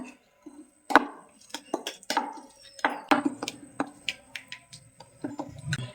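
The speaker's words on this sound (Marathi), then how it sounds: "आता याला छान फेटून घेऊया." Spiced masala mixture for brinjal curry, made with coriander powder and garam masala, being whisked in a bowl: irregular wet clicks and taps of the utensil, close and fairly quiet, with brief pauses.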